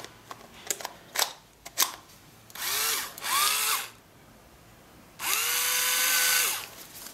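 A National EZ6225 3.6V folding cordless drill, first clicked and handled a few times, then run in two bursts at slow and fast speed, whining up and down, close.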